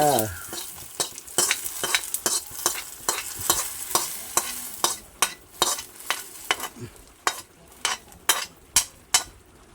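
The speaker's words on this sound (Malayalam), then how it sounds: "ഈ തിളച്ചുകൊണ്ടിരിക്കുന്ന നമ്മുടെ സാമ്പാറിലേക്ക് നമുക്ക് ഈ കൊച്ചുള്ളി അങ്ങോട്ട് ഒഴിച്ചു കൊടുക്കാം" Fried shallots are poured into boiling sambar as a spoon clanks rhythmically against the metal pot again and again over a bubbling sizzle, close and fairly loud, with no talking.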